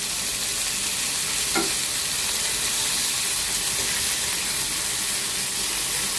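Fish frying in a pan in a home kitchen, giving a steady broadband sizzle and hiss that runs unbroken and fairly close, with one faint clink partway through and no talking.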